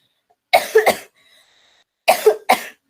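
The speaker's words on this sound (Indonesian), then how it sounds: "Mohon maaf ya, Ibu lagi batuk." A woman coughs in two close bursts of three harsh coughs each, separated by a short pause, loud and near.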